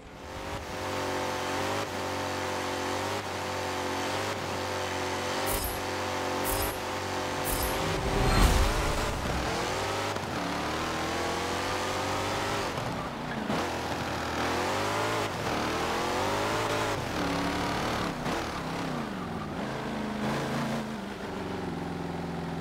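A race car in Forza Motorsport 7 screams along at high speed, engine rising through repeated gear shifts in a sawtooth pattern, with a brief loud burst of impact or skidding partway through and steady revving throughout.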